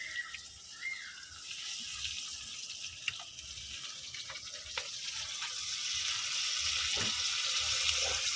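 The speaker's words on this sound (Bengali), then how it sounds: "দিয়ে একেবারে আমি পানিটা দিয়ে দিব যাতে মশলাটা না পুড়ে।" Water poured into a pan of frying spice masala with ginger and garlic for a broiler chicken curry, giving a steady hissing sizzle that swells louder toward the end, with faint clinks.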